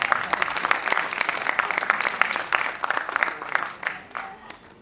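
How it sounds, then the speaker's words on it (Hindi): An audience applauds the cast at the close of a stage play, a dense, steady clapping that stays loud throughout and thins slightly toward the end. "एक बार सभी कलाकारों के लिए जोरदार तालियां।"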